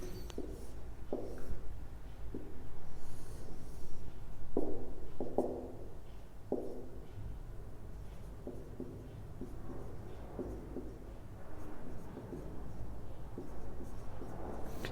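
A pen draws a cosine graph on paper in short scratchy strokes and taps, faint and close, separated by brief pauses, with soft background noise and no talking.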